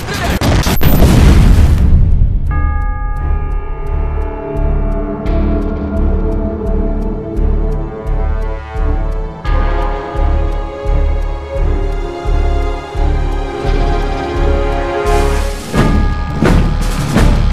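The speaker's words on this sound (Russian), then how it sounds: "О боже! Они стреляют!" UFOs fire on New York in the 2012 film Iron Sky: a heavy boom and burst of explosion opens the scene, then dull repeated thuds pulse beneath a loud, sustained orchestral score.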